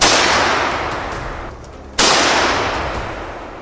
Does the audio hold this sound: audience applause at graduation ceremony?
no